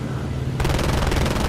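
Machine gun fire in the flight combat game Cliffs of Dover starts abruptly as a rapid, loud, steady burst of shots over a constant engine drone.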